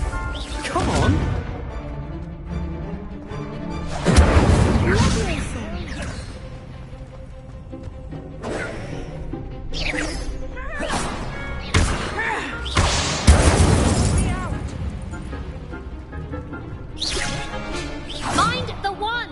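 Confringo and Incendio spells cast in the Hogwarts Legacy video game, repeated whooshing blasts and thudding impacts in bursts, loud and close, mixed with game music and spoken lines.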